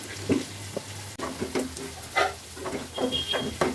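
Cauliflower frying in a pan for a Bengali curry, a steady soft sizzle with occasional clinks and stirring scrapes, close by with no talking.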